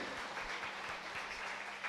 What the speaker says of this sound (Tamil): கைதட்டுங்க, கைதட்டுங்க